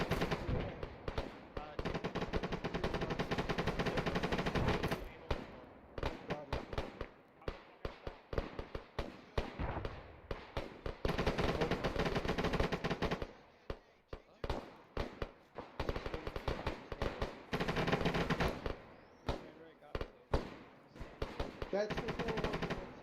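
Sustained bursts of machine gun fire during a military platoon training exercise, long loud rattling strings of shots with brief gaps between them, echoing across the range, with a voice calling out at times.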